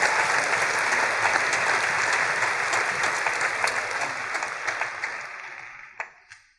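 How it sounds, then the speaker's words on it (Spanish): A church congregation applauding during a sermon, a dense and steady burst of clapping that thins out into a few scattered claps before fading. "Dale un aplauso grande al Señor."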